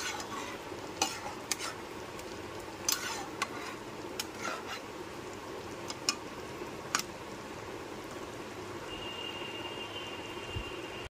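A spoon stirring restaurant-style shahi paneer gravy mixed with kasuri methi in a pan, soft scraping clinks over a steady low sizzle, close and continuous with no talk.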